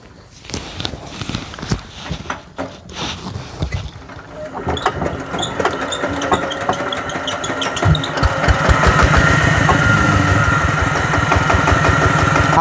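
A tractor engine starts up and settles into a loud, regular chugging idle, preceded by scattered clattering and footsteps, with its steady pulsing growing stronger toward the end.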